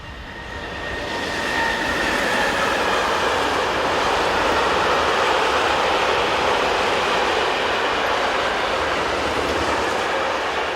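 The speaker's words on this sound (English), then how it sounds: "Another freight, this time with 27001 in charge." Freight train hauled by locomotive 27001 rolling steadily past, a loud continuous rumble of wagons and wheels that swells within the first two seconds and holds at full strength throughout.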